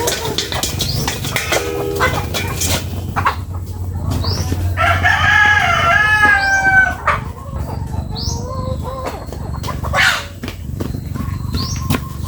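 A rooster crows loudly amid clucking chickens, with wing flaps and scattered barnyard bird calls throughout, as the chickens are chased around for exercise.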